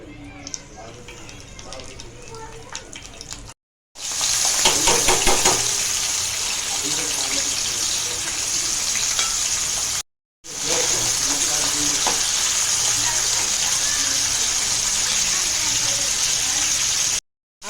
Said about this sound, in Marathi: कढई ठेवलेली आहे त्याच्यामध्ये दोन पळी तेल टाकलेलं आहे आपण आता कढीपत्ता आणि टॅमॅटो टाकून घेऊया